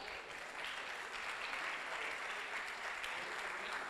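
Quiet, distant applause from an audience at a constitutional law panel, a steady hiss of many hands clapping evenly throughout.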